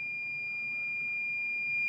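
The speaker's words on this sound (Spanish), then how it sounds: "Tenemos un pitido, tenemos una luz roja." A steady, continuous high electronic beep tone, a redundant power supply's failure alarm, holds throughout, with a faint low hum beneath it.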